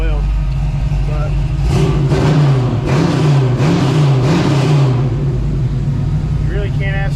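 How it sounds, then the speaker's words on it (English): A car engine fitted with an MSD Pro Billet distributor idles loudly up close, then climbs through several quick throttle revs that rise and fall before settling back to a steady idle. "It revs right as soon as you put your foot on the throttle."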